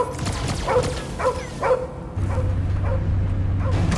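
A dog barks and yips in short bursts, about seven sharp barks in an irregular rhythm, in the Guardians of the Galaxy video game over low background game music.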